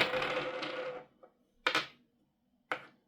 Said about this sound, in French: le premier joueur va lancer les dés